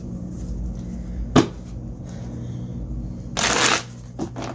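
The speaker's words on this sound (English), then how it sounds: "Let me shuffle one time." Tarot cards are shuffled nearby, a sharp riffle burst followed by a longer, louder rustling shuffle over a steady low hum.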